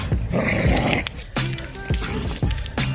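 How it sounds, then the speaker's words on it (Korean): A small Shih Tzu growls and snarls at a piece of cloth, with short rough bursts up close and choppy pauses between them, loud and alone. "벌써 1년째 천조가리 에다가만 으르렁댄다"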